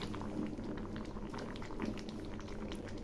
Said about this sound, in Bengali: ডালগুলো ফুটছে